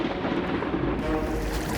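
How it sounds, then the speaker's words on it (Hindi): Loud, rumbling thunder crack in an animated children's story, a dense sustained roar of low noise with no voices over it. "उसी समय आसमान में अचानक अंधेरा छा गया और बिजली कड़की।"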